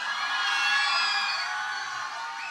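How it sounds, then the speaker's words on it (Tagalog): A large crowd at a BINI fan meet and greet cheers, whoops and shouts in a steady, loud roar that holds for a few seconds and eases only slightly toward the end. "isa namang malaking power sigaw para sa Beanie"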